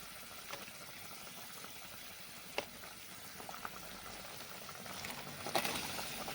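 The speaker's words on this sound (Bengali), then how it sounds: "ধোকাগুলো দিয়ে একটু নাড়াচাড়া করে আরও এক মিনিটের মতো ফুটিয়ে নিতে হবে" Fried dhoka lentil cakes simmer in a curry gravy for a dhokar dalna with pointed gourd, giving a faint, steady bubbling hiss with a few soft clicks and a brief scrape near the end.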